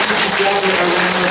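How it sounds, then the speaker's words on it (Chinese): An audience claps in a brief, dense burst of applause at a 2016 Taiwanese women's association annual meeting, with a voice faintly audible over it. "所以我想咱大家拢爱给咱家己一个很大声的掌声鼓励鼓励"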